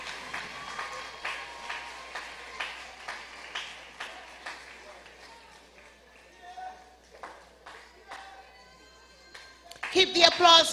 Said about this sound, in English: Keep the applause going for Miss Anguilla